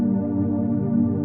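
A warm, steady synth pad preset from the U synth holds a dense sustained chord, smooth and unchanging, played alone at moderate loudness.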